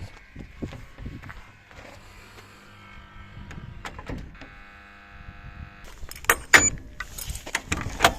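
An electromechanical lock on a folding accordion gate clicks and whirs amid rattling metal and handling noises, building to sharp clanks and jangles toward the end, close and fairly loud.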